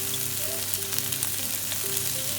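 Garlic sizzling in oil in a frying pan over medium heat, cooked for a spicy stir-fried konjac dish; a steady, close, even frying hiss runs throughout with no talk.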